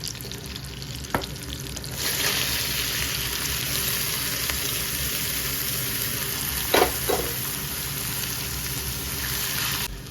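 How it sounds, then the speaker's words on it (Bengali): Onions browning with boiled chickpeas and potato in a pan for an iftar dish, a continuous soft sizzle with a few sharp clinks of a stirring utensil, no talk. "ফার্স্টে পেঁয়াজ লাল করছি, তারপরে এই যে এই ছোলা আলু সেদ্ধ হয়ে গেছে"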